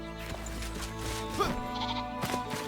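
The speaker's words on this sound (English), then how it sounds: "We still have a few of the mountain goats though." A mountain goat in the game Enshrouded bleats in a few wavering calls close by, over a steady background hum, with no talk.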